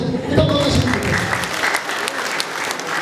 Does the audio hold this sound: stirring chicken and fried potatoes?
no